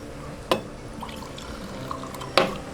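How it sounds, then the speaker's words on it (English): A drink is poured into a glass in two short splashing bursts, each loud and brief with quiet between them. "Give me a little pour."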